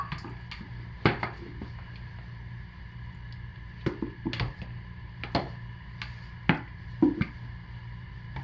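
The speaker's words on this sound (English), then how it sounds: "And I'm going to give those a quick hand stir." Blackberries get a quick stir by hand, giving sparse, irregular clicks and light knocks against a container, close and fairly quiet, with gaps of near silence between them.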